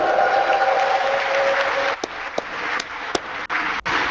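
A scattered round of audience clapping at a Dota 2 esports tournament, individual claps distinct at first, thinning out with a few final sharp claps.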